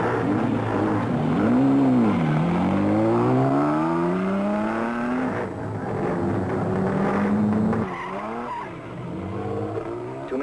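An OSCA race car at the Mille Miglia revs loudly nearby, engine pitch sweeping up and down in swelling waves, then climbing steadily as it pulls away, with a brief gap and renewed revving near the end.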